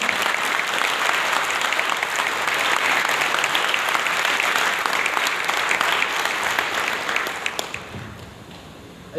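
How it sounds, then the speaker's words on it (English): A large crowd applauds steadily for several seconds, dense clapping that thins out and fades near the end. "Can I have a huge round of applause for Mr. Jyoti Basu once again?"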